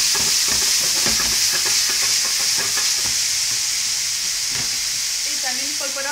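Peppers and onion fry loudly in a pan with a dense, constant sizzle, broken by repeated scraping and clattering as the vegetables are stirred, close-up and without talk.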